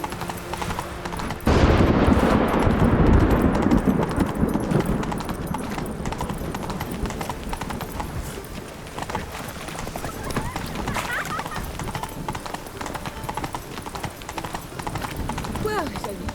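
In The Witcher 3, a horse's hooves clip-clop steadily, starting abruptly then continuing in a regular rhythm, moderately close, with speech over it.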